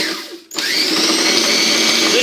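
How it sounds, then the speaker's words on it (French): A blender whirs up rosemary and goat cheese for savoury olive puff pastries, a short motor whine that spins up after a brief pause and holds loud and close. "Et on va déjà commencer par mixer tout ça."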